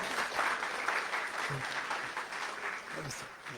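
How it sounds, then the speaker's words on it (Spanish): Audience at a project-closing seminar applauds, steady close-up clapping throughout the short stretch, with a voice briefly heard under it. "Un fuerte aplauso, por favor."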